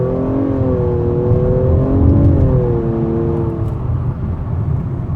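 A 2016 Nissan Maxima SR pulls away hard under full throttle, its engine note rising steadily through a gear, then easing off. Heard from inside the cabin with a constant whir and road rumble, no talk.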